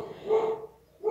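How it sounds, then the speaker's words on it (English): Dogs at home bark a couple of times at close range, two short sharp yaps separated by a brief pause. "Sorry about my dogs, but"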